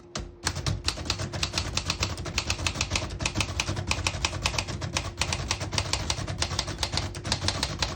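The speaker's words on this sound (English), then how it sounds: "I'll type a sentence on the next line." A 1933 Remington Portable Model 5 typewriter in very good condition types a sentence, giving a steady run of sharp, close key strikes with a few louder carriage-return or bell accents and no talking.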